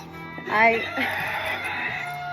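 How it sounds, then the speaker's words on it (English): A rooster crows once, loud and close, its drawn-out call rising then trailing off over a faint background hum. "You hear my rooster?"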